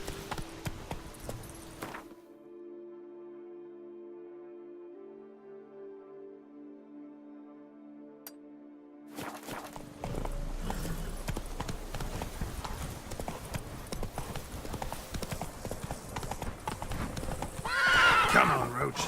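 Roach, the horse in The Witcher 3, gallops with rapid clip-clop hoofbeats and lets out a loud whinny near the end, with game music and a rider's shout around it.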